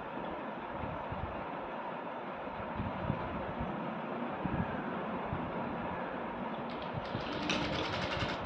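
A sewing machine runs continuously while finishing the open edge of a sleeve or trouser leg, a steady mechanical whir and rattle with no pauses throughout.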